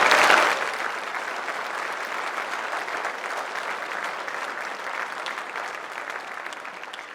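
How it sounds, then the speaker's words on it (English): A school auditorium audience at a high school class night claps for honored students, a full burst at the start that settles into steady, even applause slowly thinning toward the end. "Let's give these students a round of applause."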